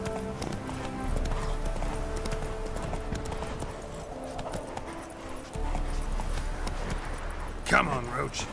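Horse hooves clip-clop steadily on the ground in The Witcher video game, with a short neigh near the end and a voice speaking over the walking.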